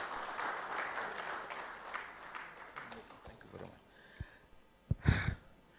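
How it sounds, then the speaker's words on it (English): A conference audience at a national cassava summit plenary session gives the presenters a round of applause. The clapping is fairly faint and fades out after about three seconds, followed by a few soft thumps and rustles. "Please, can we give a round of applause to all the presenters?"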